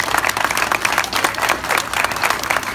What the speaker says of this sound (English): can we just get a round of applause for this library?